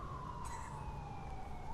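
An emergency siren wails steadily at moderate distance on a Philadelphia street, a single drawn-out tone slowly falling in pitch, faint under the background noise and with no talking.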